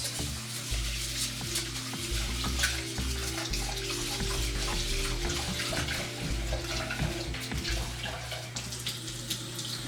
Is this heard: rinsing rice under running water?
yes